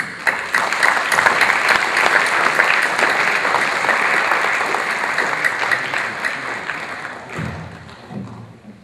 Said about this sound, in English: With a thunderous applause, I am going to request Toastmaster Anil Nainar to come on stage